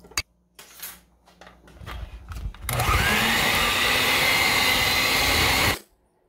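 An electric mixer whirs loudly and steadily for about three seconds, beating peanut butter cookie dough with egg and vanilla in a bowl, after some clinks and handling sounds.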